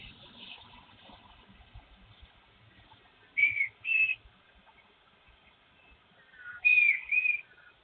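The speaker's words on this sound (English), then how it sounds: "the audio captured the unnerving whistle cutting through the silence" Whistling picked up by a doorbell camera's microphone at night: a few short, thin, wavering whistled notes in two separated bursts, cutting through an otherwise near-silent hiss.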